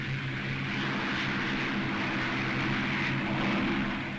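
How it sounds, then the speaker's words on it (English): A World War II fighter aircraft engine roars at full throttle during take-off, a steady, loud, droning propeller engine sound with no voices. "Throttle right forward, stick central. Ease her off the ground"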